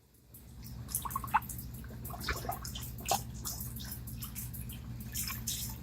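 Tepid water dripping and trickling during a facial rinse in a skincare chemical peel session, soft irregular drips and light splashes over a steady low hum, fairly quiet, no speech.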